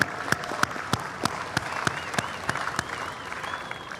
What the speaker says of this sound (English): Let's give another round of applause for Seoul of Japan.